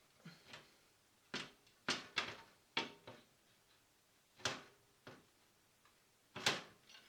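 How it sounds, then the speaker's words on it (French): A Thermaltake Level 20 GT PC case door being put back on, several sharp clacks and knocks scattered irregularly, close and distinct against near silence, with no speech. "Pour remettre la porte"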